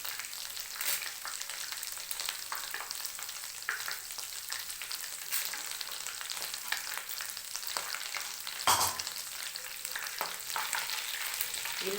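Whole spices, including cloves and black pepper, frying in a pan for vegetable pulao, a steady close sizzle and crackle with occasional stirring scrapes throughout and no talking.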